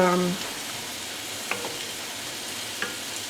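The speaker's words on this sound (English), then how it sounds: "bring it up to kind of a slow bubble and let it simmer" Bison spaghetti sauce simmering in a pot, a steady soft bubbling hiss with occasional faint pops, heard close and alone after a brief tonal sound at the start.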